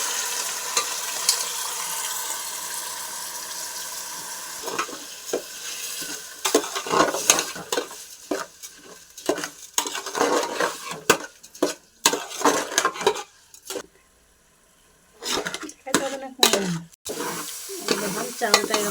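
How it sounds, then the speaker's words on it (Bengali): Rice is stir-fried in ginger paste for a pulao, with a gentle sizzle under it. Uneven, busy spatula scrapes and clinks against the pan come close up, with a brief quiet gap before the stirring resumes. "এখন চাউলটা ওতে দিয়ে ভেজে নেব।"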